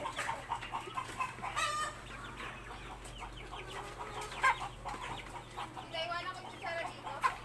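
Backyard pet chickens cluck and chatter repeatedly at close range, with rooster-like calls rising over a steady low hum and a few faint background voices.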